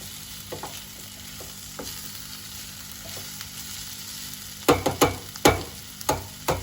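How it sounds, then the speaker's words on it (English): Tomatoes and onion cooking in a pan: a soft, even sizzle hums beneath several sharp, close knocks and scrapes of a spoon on the pan, clustered toward the end. "we can put our tomatoes in it. And again cook it for another 2 minutes."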